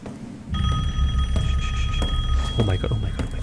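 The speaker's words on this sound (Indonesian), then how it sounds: "Ada telepon guys dari kiri." A telephone rings in Resident Evil Village, a steady electronic bell that starts half a second in and keeps trilling over a low game rumble, with footsteps and movement sounds near the end.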